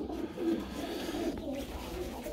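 Soft pigeon coos from a loft of homing pigeons rise faintly over steady background noise, a few low murmured calls without speech.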